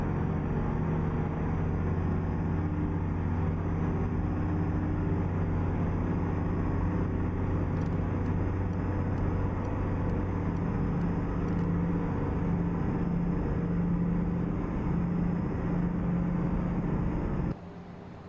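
A Kenworth K108 truck in American Truck Simulator drones along with a steady, low engine hum and road rumble at constant pace, unbroken until it drops off sharply near the end.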